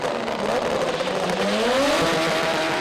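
Front-wheel drive drag car from the Competition Clutch FWD Drag Series making a run, a loud sustained engine roar with rising pitch as it accelerates down the strip, close and continuous throughout.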